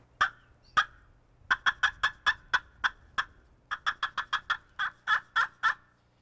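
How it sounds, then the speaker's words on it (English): Rapid, sharp turkey cutting notes in quick irregular bursts, then a run of faster cackling yelps, loud and near with no talking. "They like to hear cutting and cackling."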